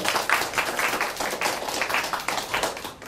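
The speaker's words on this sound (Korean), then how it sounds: "다시 한번 우리 고려대 북한학과 3학년 김시현 학생에게 큰 박수 부탁드리도록 하겠습니다." Audience clapping at a symposium for a third-year North Korean studies student from Korea University, a dense, steady patter of hands from a modest crowd lasting the whole stretch.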